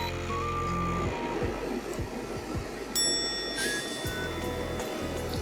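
A faulty second-hand futon dryer, one that runs intermittently and switches itself on, gives short electronic beeps over a steady, close whirring fan and motor hum that continues throughout, with a brief pulsing rhythm in the low drone and no talking.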